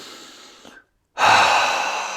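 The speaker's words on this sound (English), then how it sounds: "Take a breath." A deep breath: a soft breath out fades into a pause of silence, then a strong, close inhalation rushes in and holds steady for about a second, with no talking.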